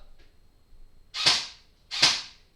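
Two sharp bursts from a repaired toy foam dart blaster, each a hissing pop about a second apart, close and fairly loud with quiet between them.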